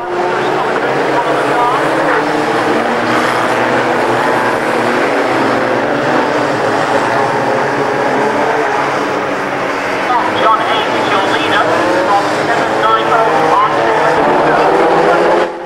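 Loud, continuous roar of stock car engines circling a track at rolling lap speed, a steady mechanical drone that swells slightly near the end.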